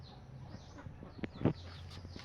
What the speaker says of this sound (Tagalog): Yan yung mga manok na nangingitlog.